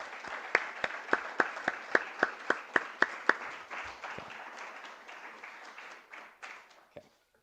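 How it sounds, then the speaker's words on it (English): Applause for panelists at a university talk on censorship of Palestinian activism: a dozen sharp, evenly spaced claps ring out over a softer spread of clapping, then the applause thins and fades, with one last clap at the end. "let's have a round of applause for all of our panelists"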